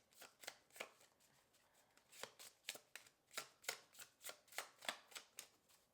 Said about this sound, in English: I'm going to shuffle 2 more times.